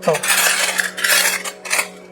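Vintage airline silver-plate flatware clinks and rattles as pieces are handled close by, bright metallic jingles in several bursts with no talking.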